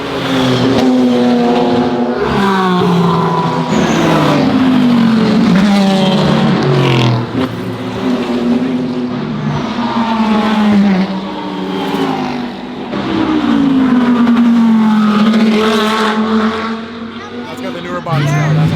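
A Lamborghini engine revs and roars nearby, rising and falling in pitch over several long pulls, with people talking and cheering excitedly over it throughout.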